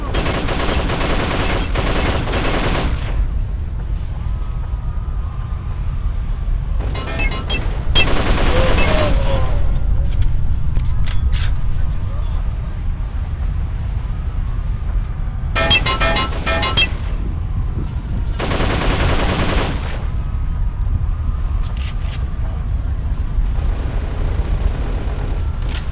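Rapid bursts of gunfire in the Xbox 360 video game Darkest of Days come in clustered volleys separated by short gaps, loud and dense over a constant low rumble of battle.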